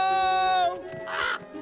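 A cartoon bird calls out in an animated film scene, a harsh crow-like caw following a held, tonal cry, loud and close, with no talking over it.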